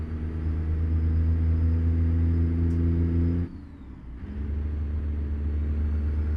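A Kenworth W900A truck engine in American Truck Simulator drones at a steady loud rumble, drops away briefly as the driver double-clutches through a gear change, then returns at a slightly lower pitch.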